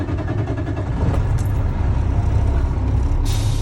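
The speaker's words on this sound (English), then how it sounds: "Now I'm gonna safe start my vehicle" A diesel truck engine turns over and settles into a steady, loud rumble close by, the low throb continuing without a break, with a brief hiss of air near the end.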